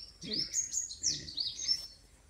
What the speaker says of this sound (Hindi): देखिए चिड़िया आ गई।